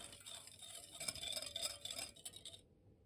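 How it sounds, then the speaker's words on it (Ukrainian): Sugar is stirred into warm milk in a mixing bowl, producing a faint, close swishing and light clinking of a utensil against the bowl for a couple of seconds before falling silent. "До нього всипаємо 30 г цукру та перемішуємо до повного розчинення"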